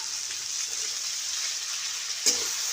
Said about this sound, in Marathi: आता आईंनी लगेचच टाकलेल्या आहे भेंड्या आता कढईमध्ये त्या व्यवस्थित परतून घ्यायच्या